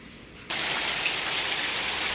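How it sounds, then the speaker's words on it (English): Heavy storm rain starts abruptly after a brief quiet moment and then pours steadily as a dense, even hiss of drops, with no wind. "getting some good rain, so real happy to see that."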